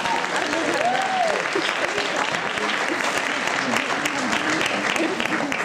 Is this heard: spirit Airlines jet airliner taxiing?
no